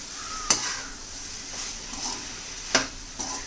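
Tomato rice being mixed in a kadai over medium-high heat, a few sharp spoon scrapes and clinks against the metal spread over a soft continuous sizzle.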